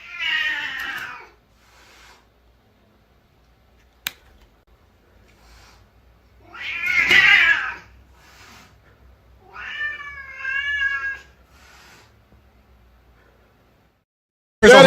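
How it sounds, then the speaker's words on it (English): A cat meows and caterwauls from a played video, with three loud drawn-out calls separated by near silence and a sharp click between them. "That is not a tiny cat."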